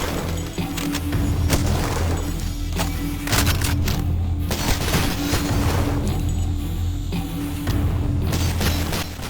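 Sniper rifle fire in the video game Cultic booms in heavy, loud shots amid crashing impacts and a steady dense din, repeated through the stretch.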